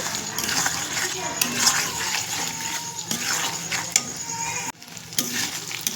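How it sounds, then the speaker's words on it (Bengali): Chicken liver curry fries in a pan while being stirred, giving a continuous close sizzle with scraping and occasional metallic clinks as someone talks. "এটাকে আমি এখনো 10 মিনিট ধরে কষবো"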